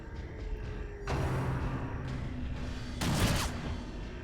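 Gunshots from the Darkest Dungeon video game: one sharp broadband blast lands at about one second into a rumbling combat mix, and a brighter, louder shot follows near three seconds.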